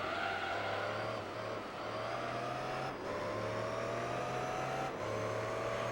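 Pagani Zonda engine roaring at high revs in Gran Turismo 3: A-Spec, a steady loud drone with brief dips at each gear change, no talk over it.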